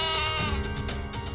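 A stray goat bleats loudly and continuously in a Hindi TV drama scene about Shirdi and Sai Baba, the calls wavering in pitch close by with a steady background underneath.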